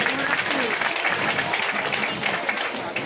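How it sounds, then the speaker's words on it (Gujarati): A village audience gathered at a ceremony bursts into dense, sustained clapping, loud and continuous throughout, with crowd murmur blended in. "તો પ્રથમ આ ગામના તમામ લોકોને એક જોરદાર તાળીઓથી વધાઈ લઈએ."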